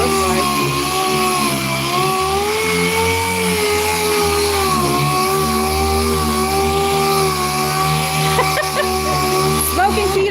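A power sander fitted with 400-grit paper works over the yellow paint of a Dodge in an auto paint shop, its motor whining loud and close with a wavering pitch, while people talk over it.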